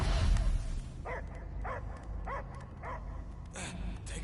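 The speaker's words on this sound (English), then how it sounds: "I hear only barking" A dog in the Guardians of the Galaxy video game barks in a regular series of sharp yips and woofs, moderately close, over a low rumbling game ambience.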